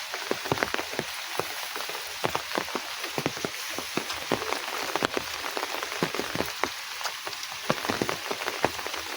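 Rain falls steadily in a rural Bangladeshi village beside a canal choked with water hyacinth, a constant hiss punctuated by many sharp, close drips striking a surface.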